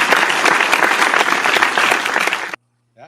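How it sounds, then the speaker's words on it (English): Audience applause on a beer-sharing talk show, a dense burst of many hands clapping loudly for about two and a half seconds before cutting off abruptly to near silence. "A little round of applause."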